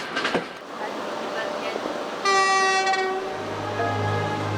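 A passenger train on a long-distance route pulls into a small rural station and sounds a loud, sustained horn blast midway, with the rumble of the running train and faint speech beneath.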